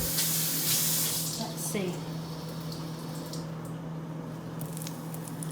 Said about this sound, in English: I heard a sizzle when I splashed some water, so we're good.